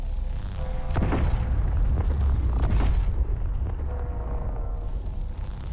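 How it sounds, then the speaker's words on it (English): Railguns fire in Space Engineers, giving deep booming thuds, two strong blasts and lighter rumbling impacts over a steady low background, loud and close, with no talking. "I'm gonna turn on the rail guns now"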